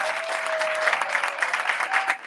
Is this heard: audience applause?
yes